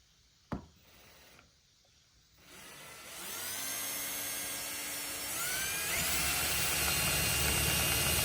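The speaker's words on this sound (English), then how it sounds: "We're gonna pop some holes with our unibits." A power drill with a unibit step drill bit cuts holes in a metal street sign being made into a skidplate, whining up loudly after a sharp knock and running steadily through the rest.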